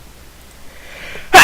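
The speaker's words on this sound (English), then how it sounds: "Achoo!" A single sharp, loud sneeze bursts out abruptly at the very end after a near-silent stretch.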